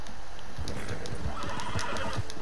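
A horse in the video game Red Dead Redemption 2 whinnies with clopping hooves thudding beneath it, steady and fairly loud, alongside a constant background hum.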